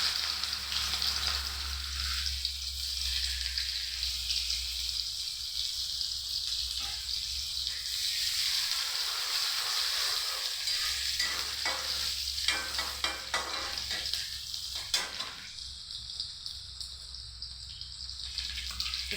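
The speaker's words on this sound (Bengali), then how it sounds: "এখন পেঁয়াজ কুচি দিয়ে দেবো।" Chopped onions drop into hot oil in a kadai and sizzle and spit steadily up close, with stirring scrapes and clatter breaking in now and then and no voices.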